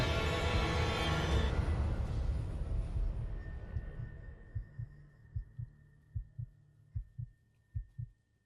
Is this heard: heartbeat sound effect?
yes